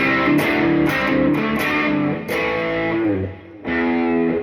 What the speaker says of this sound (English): look what happens when I engage the mega distortion pedal